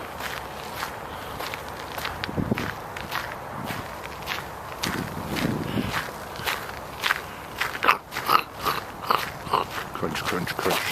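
Crunching footsteps along a gravel path in a nature park, an irregular run of crisp steps close to the listener, with a voice speaking over parts of it.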